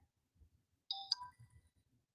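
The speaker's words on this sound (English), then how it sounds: "See, listen to that phone dinging." A smartphone notification ding sounds once clearly, a two-tone chime with a brief ringing tail, heard close up over quiet room background.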